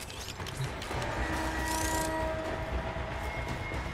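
A tram rolls along in Warframe, a steady rumbling rail drone with metallic squeals and faint whining tones, continuous and fairly close.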